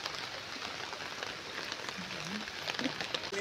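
Rain falling outdoors, a soft, even patter and hiss of drops on surfaces that continues throughout at low volume, with faint voices in the background.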